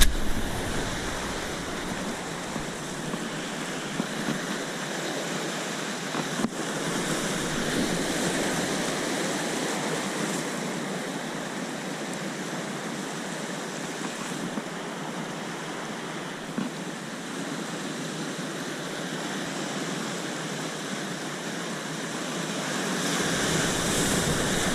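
Water rushes steadily over rocks as waves break along a rocky shore, a loud continuous roar and wash with surges across the whole stretch and no talking.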